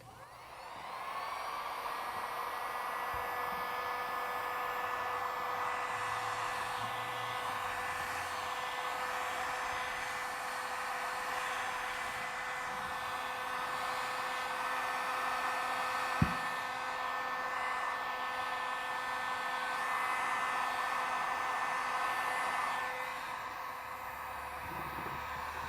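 A heat gun blows steadily for about twenty seconds while warming a dented plastic bumper, making a continuous loud whooshing hiss with a faint whine. Near the end it tapers off, and a single brief knock sounds midway.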